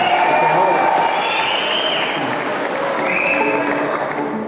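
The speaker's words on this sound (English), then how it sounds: "what does it mean when they clap for that?" A concert audience at a show in Cleveland's Music Hall claps in a dense, continuous roar that fades slightly over several seconds, with cheering on top.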